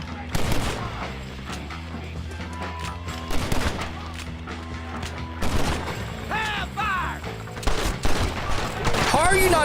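Shotgun and other gunfire in the western video game Red Dead Redemption, with heavy repeated blasts and scattered shots over continuous game sound, loud and close, and someone talking between bursts.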